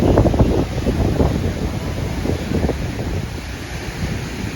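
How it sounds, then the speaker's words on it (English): Rough sea waves break on the coast at Fort Kochi in Kerala, a loud, rushing surge at the start that settles into a steady wash, mixed with heavy wind buffeting the microphone. "The sea is quite violent, you know, but so beautiful, very beautiful."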